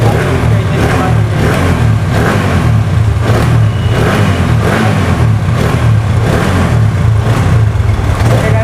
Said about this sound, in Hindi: गाइस आप लोग इसके इंजन की आवाज़ भी सुन सकते हैं।